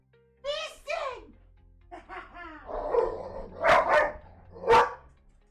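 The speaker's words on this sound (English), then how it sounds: "Gonna get the puppy dog." A small puppy yips and barks in a video game, a few sharp barks near the end after a stretch of talk, close and fairly loud.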